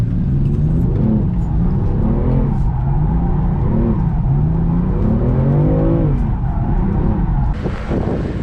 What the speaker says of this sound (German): ein BMW M4, neue Version mit Partikelfilter. Ehrlich gesagt, scheiß Sound